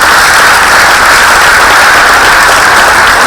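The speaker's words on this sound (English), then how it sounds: "Another round of applause." Sustained applause from a conference audience at a careers event, dense and steady clapping filling the whole stretch at full loudness with no talk over it.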